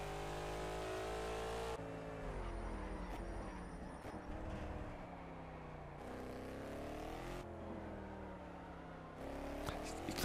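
Gumpert Apollo S engine in Project Cars racing at Silverstone GP, a loud continuous roar with sharp pitch drops at each gear shift and steady revving between shifts, close and alone without talk.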